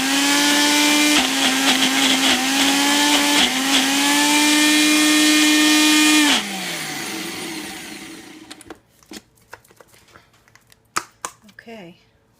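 A countertop blender whirs loudly in steady bursts, pulsing a thick walnut cheese mixture, its high motor whine briefly dipping between pulses before winding down; then clatter and faint handling noises follow.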